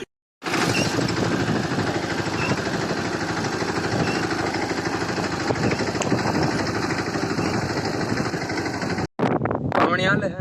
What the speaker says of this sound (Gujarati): વાવણી હાલે છે ને ભાઈ મિની ટ્રેક્ટર થી વાવણી કરવાની ભારી મજા આવે